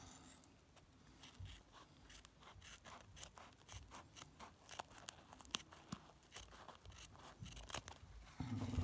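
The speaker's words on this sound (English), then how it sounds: "Just got some scissors here." Scissors snip and crunch through a face mask in quick, faint, irregular cuts, close up, with light rustling and crinkling of the material between snips.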